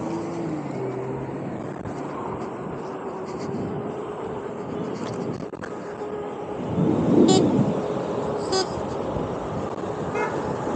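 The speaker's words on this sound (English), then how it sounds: "honking into people's car windows" A car horn toots at people from a vehicle, short honks rising over steady traffic and road noise, loudest around the middle.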